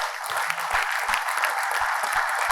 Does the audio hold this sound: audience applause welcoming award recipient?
yes